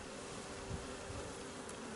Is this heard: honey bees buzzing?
yes